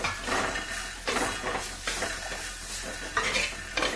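Soaked jackfruit pieces being stir-fried in a pan for a palya, with repeated scraping and stirring clatter over a steady low sizzle, close and moderately loud.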